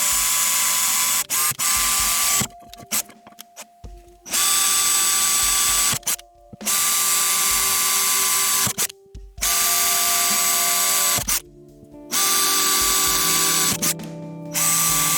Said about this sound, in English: I'm just drilling some pilot holes, like little small holes at the center of where the holes need to be